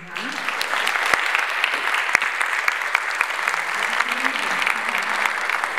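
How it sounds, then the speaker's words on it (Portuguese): Audience at a psychology congress talk in Santa Catarina applauds to close the session, a continuous wash of clapping with a few sharp louder claps standing out and a voice or two murmuring faintly beneath. "Uma salva de palmas para a gente encerrar."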